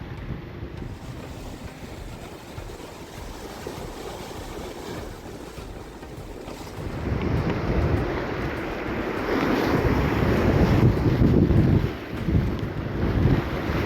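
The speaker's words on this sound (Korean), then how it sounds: "오늘도 바람이 바람이 무섭습니다" Strong wind buffets the microphone at sea from a boat during black sea bream fishing off Geumodo island, with waves and water noise underneath; the roar swells louder and rougher in the second half.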